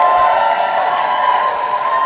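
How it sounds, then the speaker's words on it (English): A crowd at an arts awards ceremony gives a theatre cast another round of applause, a loud, continuous roar of clapping and cheering mixed with whoops. "Can we have another round of applause for them"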